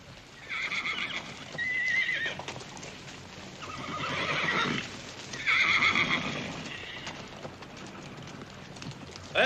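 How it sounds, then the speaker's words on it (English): A black gelding of Ponderosa-bred saddle stock whinnies loudly twice at a Gunlock horse sale, with clip-clopping hooves moving steadily between the neighs, close and clear without talk. "that handsome black gelding, a prime example of Ponderosa bred saddle stock"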